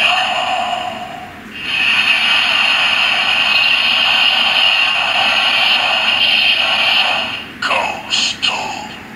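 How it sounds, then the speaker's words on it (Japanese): DX Another Watch toy from Kamen Rider, set to Ghost, playing its transformation sound: a loud, hissing electronic effect with a bright synthetic tone that sustains for several seconds, then a few short stuttering bursts. "はい、じゃあ変身音、"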